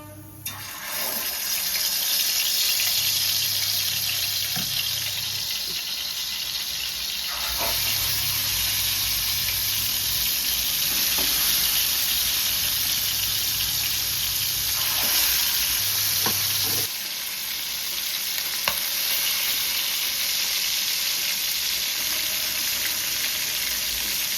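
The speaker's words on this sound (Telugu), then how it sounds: "నూనె వేడెక్కిందండి, మనం ఒక్కొక్క జాయింట్ వేసుకుందాం." Chicken pieces frying in hot oil, a loud, sustained sizzling hiss lasting over twenty seconds, with a few brief shifts as pieces are added or moved and a low steady hum beneath.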